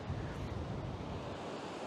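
Choppy sea waves breaking at Easington Beach on the Holderness Coast, a steady loud wash of surf mixed with gusty wind buffeting the microphone, continuous with no talk.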